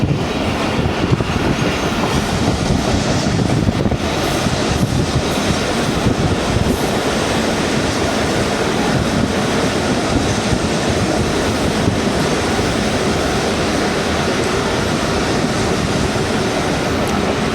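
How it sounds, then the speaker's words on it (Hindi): A train pulls toward Mian Channu railway station, heard from on board as a loud, continuous rumble with faint rhythmic wheel clatter and no voices. "ट्रेन हमारी अप्रोचिंग कर रही है मियाँ चन्नू रेलवे स्टेशन"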